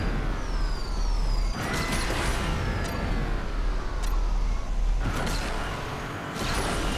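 A Pagani Huayra BC engine in the racing game Asphalt 8 revs and whines, its pitch sweeping up and down through shifts, with sharp bursts of noise around gear changes.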